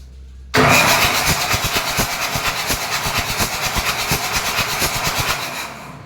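A boat's diesel engine, with water mixed into its oil, cranks and fires up loudly after a brief pause, then settles into a rapid, rhythmic knocking idle that holds steady before easing off at the end.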